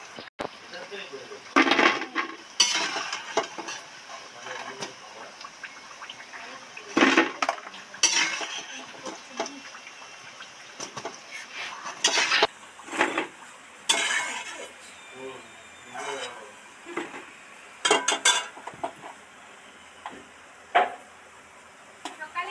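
Potato pakoras deep frying in a pan, with a soft sizzle under repeated clinks and scrapes of a utensil against the pan, irregular and close, with occasional talk.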